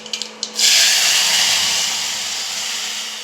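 A burst of loud, steady sizzling hiss from a hot-oil tempering of mustard seeds, cumin and curry leaves meeting boiled dal. It starts suddenly after a few light clicks, then slowly fades while holding strong.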